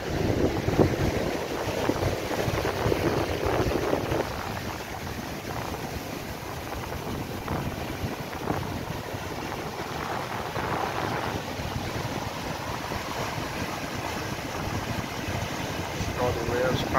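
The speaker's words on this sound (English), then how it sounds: "All the waves crashing at Soupball." Ocean waves crash continuously at Soup Bowl beach near Bathsheba, St. Joseph, Barbados, a broad rushing surf roar with heavy wind buffeting on the microphone throughout.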